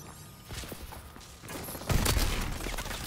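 Gunfire in a Call of Duty: Advanced Warfare free-for-all match, a few sharp shots and then a louder, dense burst, mixed with game noise.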